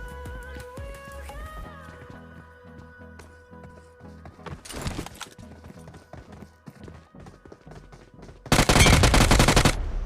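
Rapid bursts of gunfire crackle amid game sounds and footsteps, ending in a loud, dense volley of shots.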